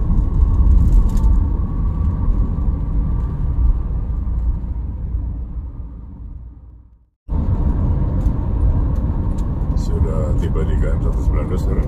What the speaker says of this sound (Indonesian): Kendaraan masih cukup ramai, juga banyak kendaraan besar maupun juga bus dan kendaraan travel.